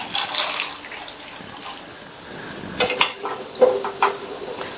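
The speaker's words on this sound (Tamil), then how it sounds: "நல்லா கலந்து விட்டாச்சு." Stirring half a kilo of baby potatoes with salt in water inside a pressure cooker, giving light sloshing and occasional metallic scrapes and knocks against the pot, intermittent and close.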